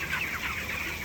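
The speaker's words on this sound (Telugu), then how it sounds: "బంగారు కోడి పెట్ట వచ్చింది." A hen clucks softly in a brief burst, with a dense, noisy outdoor background and no voices.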